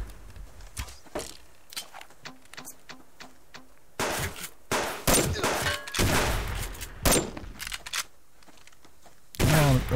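Gunfire in the survival video game Subsistence, with repeated sharp shots spaced across the clip, some in quick bursts, the later ones louder and denser, plus a few clicky mechanical noises between them.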